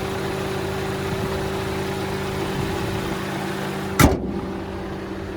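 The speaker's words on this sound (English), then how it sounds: "But there's that 2-liter turbocharged 4-cylinder engine." Idle of a 2025 Mercedes-Benz GLB 250 with a 2-liter turbocharged four-cylinder engine: a steady low hum with a constant tone, broken by one short, sharp knock near the end.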